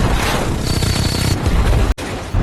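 Dense, continuous rumbling barrage of blasts and rapid gunfire during a military guerrilla training exercise, with fighter aircraft involved, loud and close, briefly cutting out near the end before resuming.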